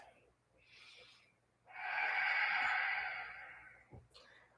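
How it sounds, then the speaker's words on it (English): A slow breath during a yoga flow, with a soft inhale followed by a long, airy exhale that swells and fades, then a short sniff at the end, close and quiet. "Remember, the breath is the consistent. 2 more breaths."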